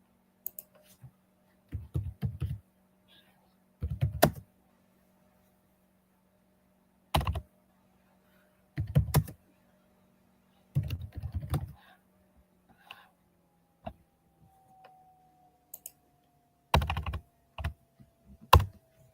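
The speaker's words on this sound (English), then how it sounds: "I'm just typing in hot burn words to try to find this guy's name." Bursts of typing on a computer keyboard, quick clusters of clicky keystrokes separated by pauses, close and fairly quiet.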